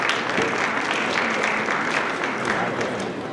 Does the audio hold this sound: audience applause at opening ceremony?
yes